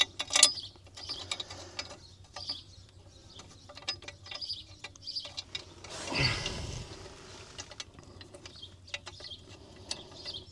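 Small metallic clicks and scrapes from a bolt being threaded by hand into a New Holland H7220 tractor while a spline is fitted, fairly faint and scattered, with a louder rustling burst midway.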